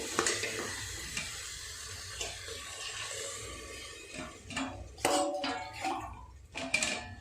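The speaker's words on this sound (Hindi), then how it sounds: "अभी हम रसोई का पानी डालेंगे।" Water is poured into a pan of sautéed onion and chana dal masala: a steady sizzle and stirring build into louder hissing bursts and spoon clatter near the end.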